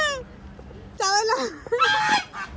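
A duck at a family resort near Karjat honks and quacks loudly and close by in a few harsh, nasal calls, with a short gap early on before a run of repeated squawks.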